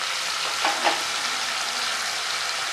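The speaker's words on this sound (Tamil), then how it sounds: "வெங்காயம் போட்டு கடுகு போட்டு" Onion and mustard seeds fry in a pan with a steady, dense crackling hiss, broken near the start by a couple of soft clinks, with no voices.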